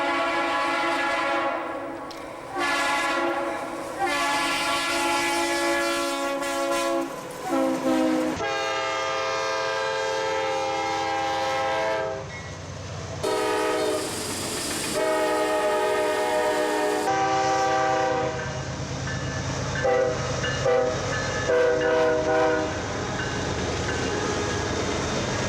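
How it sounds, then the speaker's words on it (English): A freight train on a busy line with solid tank-car and coal trains rolls past, its horn sounding in long, loud, sustained blasts over the steady rumble and clatter of railcars. "A lot of trains with a mixture of freight."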